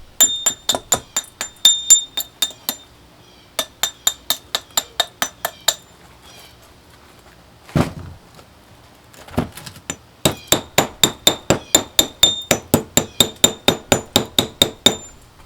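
Knocking slag off a freshly cast copper bar made from cement copper powder: bursts of rapid, sharp metallic taps ring out close by, interrupted by pauses and a couple of duller thumps, with no voices.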